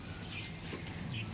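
Morning birds at Jim Corbett give a few faint, thin chirps and short whistles over a soft, continuous outdoor background, with no one talking.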